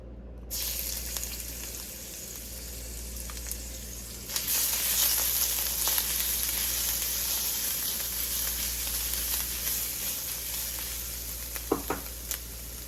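Ginger sizzling steadily in hot sesame oil in a pan, a continuous close frying hiss with a few brief clinks near the end.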